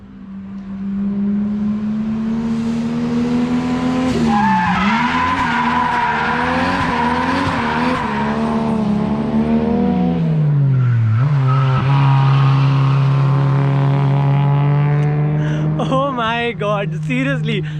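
Modified Lexus GS 300 with a 2JZ engine drifting around a race track, its engine droning loudly as revs rise and fall, tires squealing in long sustained skids, close and continuous.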